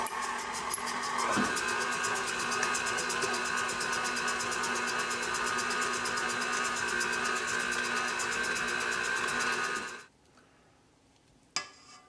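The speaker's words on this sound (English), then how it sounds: "we're going to take our mixer and we're going to cream our butter and our confectioner's sugar" An electric mixer creams butter and confectioner's sugar for butter tarts, a steady whirring drone that runs for about ten seconds, then cuts out, followed by a few faint clicks.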